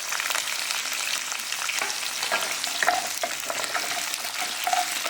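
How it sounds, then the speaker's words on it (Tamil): Garlic, green chili and onion fry in hot oil, giving a steady, close sizzle with a few stirring scrapes and occasional sharper pops. "இதை ஹை ஃப்ளேமில் வைக்காதீங்க, ஏன்னாக்கா மேலே அடிக்குது எண்ணெய்"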